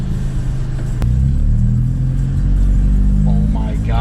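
A 2012 Honda Civic Si engine revs loudly in a parking lot, a steady deep rumble swelling as the throttle rises, with a voice talking briefly near the end.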